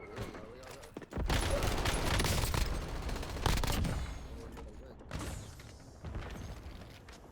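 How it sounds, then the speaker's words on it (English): Video-game enemy precision airstrike, a sudden burst of rapid explosive impacts and gunfire that rumbles heavily for several seconds, fades, then flares again in shorter blasts, loud and close, with mechanical rattles mixed in. "Enemy precision airstrike."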